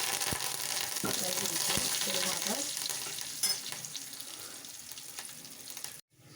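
Mustard seeds and curry leaves sizzle in hot tempering oil for palakura pappu, a loud close hiss with a few sharp crackles and stirring scrapes that fades before cutting off abruptly.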